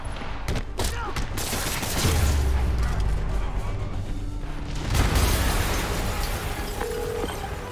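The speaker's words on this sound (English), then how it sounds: "Yuri, an explosion just..." Explosion in the video game Spider-Man Remastered, a heavy boom with rumbling debris and crackling gunfire-like bursts, loud and sustained, followed by a second swell midway through.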